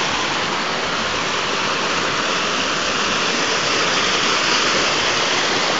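Rushing river current during a crossing, a loud, dense, continuous roar of churning water heard up close and steady throughout with no voices.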